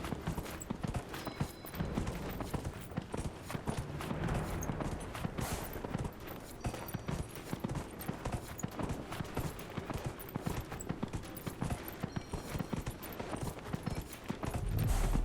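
Rapid, continuous hoofbeats of a horse galloping in the video game Dragon Age Inquisition pound throughout, a dense galloping clatter that stays steady and fairly loud with no voices.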